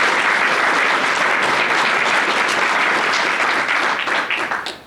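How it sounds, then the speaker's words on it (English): Sustained applause from an indoor crowd at a press conference honoring the Urban Indian Center, dense clapping that holds steady before fading out at the end. "Another round of applause to the Urban Indian Center for all they do in our community."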